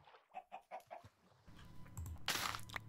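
A chicken in Minecraft clucks in a short series of soft, rhythmic notes, followed by a brief louder flutter of sound, heard alone without talk.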